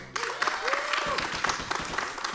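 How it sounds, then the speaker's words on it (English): Steady applause from a speedrunning charity marathon audience, dense clapping throughout with a voice calling out briefly over it. "give me a big round of applause for doing such a great job on the run"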